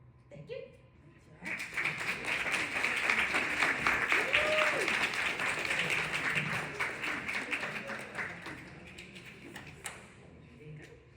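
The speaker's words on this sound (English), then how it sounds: "Give another round of applause." A seated audience applauds after a motivational talk on the growth mindset. Clapping swells in after a quiet opening, stays full and steady, then thins toward the end.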